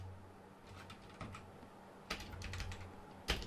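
Soft keystrokes sound on a computer keyboard as C++ code is typed, a few quiet scattered taps followed by a couple of louder clustered bursts in a hushed room.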